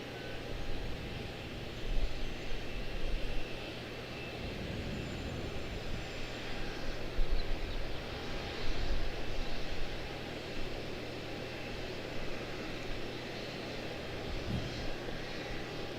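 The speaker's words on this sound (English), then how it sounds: "A320-214 out of Memphis, 2910 coming over on left" An Airbus A320-214 airliner passing at Charlotte airport, a faint, steady jet roar with a broad airy hiss that swells a little at moments, heard from a distance.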